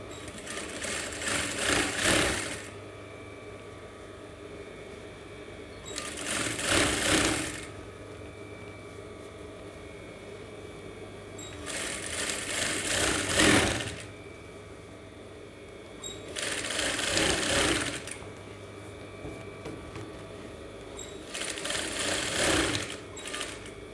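Sewing machine stitching the lining and fabric tip of an Aso-Ebi cap, running in five steady bursts of a few seconds each with quiet pauses between, close and clear with no talk.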